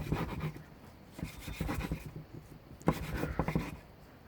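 A knife slices through the upper foliage of leek seedlings: several quiet, dry rasping strokes in short bursts, close and faint.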